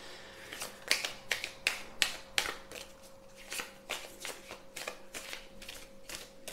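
Tarot cards being shuffled, a quick run of crisp riffling bursts, close and fairly quiet, repeating in an uneven rhythm with brief pauses.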